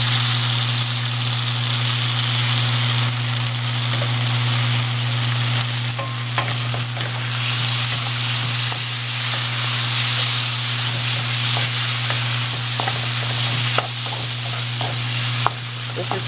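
Mole sauce hits a hot pan with a loud, dense, continuous sizzle and hiss, a low hum underneath and occasional scrapes as it is stirred close by.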